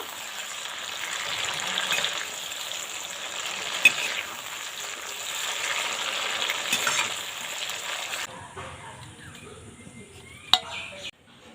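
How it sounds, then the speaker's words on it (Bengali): Chicken frying in a pan for a Bengali chicken curry with potatoes, a continuous close sizzle with a few stirring knocks, cutting off abruptly to quieter kitchen noise near the end. "চিকেনটা একটু রান্না করে নিয়েছি এই দেখুন একটু ভেজে নিয়েছি"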